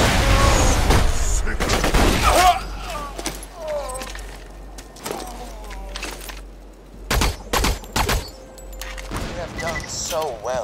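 Grenade blast and rapid gunfire from the video game Borderlands 2, a burst of loud bangs and crackling shots early on, then scattered sharp shots and mechanical clatter, with voices speaking over the action.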